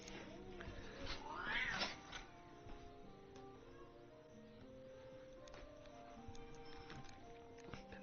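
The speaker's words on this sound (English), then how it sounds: "Sorry, cats are terrorizing each other" House cats fight, one yowling loudly and close in a rising caterwaul early on, then lower growls and meows continue more quietly over steady background music.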